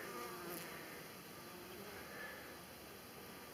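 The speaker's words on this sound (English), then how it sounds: "And these are the bees. And they are pretty active today." Bees swarm in a dense, continuous buzz, many insects droning close by at a steady level without talking.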